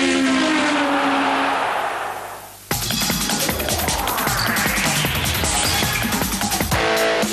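An Alfa Romeo race car at the Suzuka circuit roars past, its high engine note sweeping and fading, then a loud, close, buzzing engine scream as it accelerates hard, with no voices.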